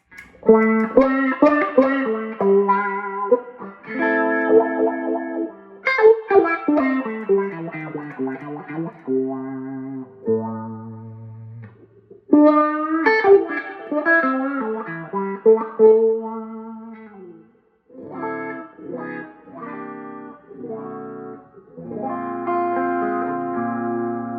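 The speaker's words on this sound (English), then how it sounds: "This is just the neck humbucker, and it's coil tapped, so kind of to emulate like a Strat or a Tele single coil" Electric guitar on a coil-tapped neck humbucker, voiced like a Strat or Tele single coil, played through a wah pedal, with expressive bent melodic phrases that swell and fade and no speech.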